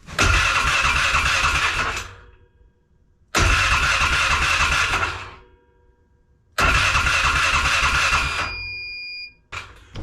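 A Polaris 500 ATV engine cranks and fires in three loud bursts of about two seconds each, separated by short silences, with a brief fourth burst at the very end.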